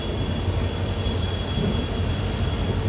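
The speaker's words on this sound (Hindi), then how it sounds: "departure from Theni railway station" A train departs Theni railway station, giving a steady rolling rumble from inside the moving train on the Madurai to Bodi line, constant and fairly quiet with no talking.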